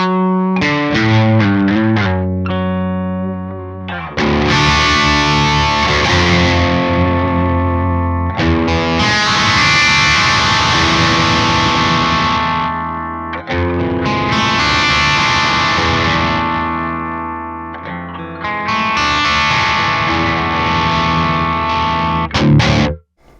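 An electric guitar fitted with a Fishman Fluence Classic humbucker plays through heavy distortion, choppy chords at first and then long sustained, ringing notes and chords, loud and continuous with no talk.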